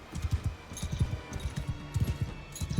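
Horse hooves pound in a video game, a quick uneven run of thudding beats that stays close and fairly loud, with no voice over them.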